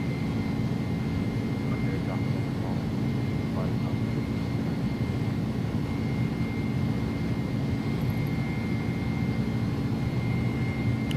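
A300 jet airliner in the X-Plane 11 flight simulator accelerating on its takeoff roll, a steady, loud broadband engine roar that holds without letup, with a voice talking over it.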